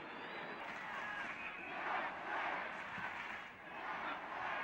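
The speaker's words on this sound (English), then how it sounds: "The referee didn't play the advantage and the crowd do not like it." A football stadium crowd at a 1970-71 Chelsea match reacts with sustained disapproving roars and jeers, a broad, distant wash of massed voices swelling and dipping without pause.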